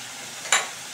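Spice masala sautés in hot oil for a Bengali chicken curry: a quiet, steady sizzle, then a single short stirring scrape about halfway through that fades back into the sizzle.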